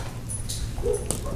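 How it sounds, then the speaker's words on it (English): A pet dog, excited by the neighbor's dogs, lets out a few short yips and whimpers at moderate distance indoors. "my dog's getting excited by the neighbor's dogs"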